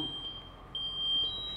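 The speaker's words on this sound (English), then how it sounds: "That alarm right there?" A fire station alarm gives a steady high electronic beep, faint and continuous with brief breaks, over a low background hum inside the firehouse.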